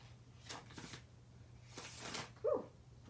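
Cards are shuffled by hand during a card reading, giving two soft bursts of papery riffling, then a longer stretch of rustling and a brief sharper knock near the end, all fairly quiet and close.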